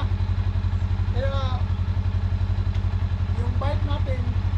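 A motorcycle engine idles with a fast, even chugging pulse as it is brought up to a house, with a person talking over it.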